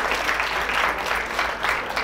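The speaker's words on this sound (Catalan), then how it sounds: "I amb aquest aplaudiment que els hi fem als quatre." Studio audience applause for school quiz teams on a Terrassa television quiz show, a brief, steady burst of many hands clapping at close range.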